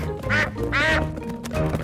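A duck quacks loudly in a few harsh, nasal bursts separated by short pauses, close by with no talking.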